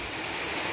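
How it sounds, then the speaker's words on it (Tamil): Heavy rain pours steadily in Vasan Nagar, Trichy, a dense, continuous hiss of drops hitting surfaces close by with no pauses. "மழை நல்லா பெய்யுது"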